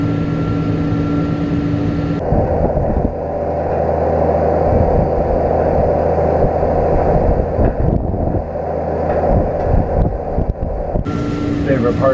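A tractor rolling a field ahead of planting gives a loud, steady engine drone with a low rumble and a sustained tone. The noise shifts slightly partway through as the machine works nearby.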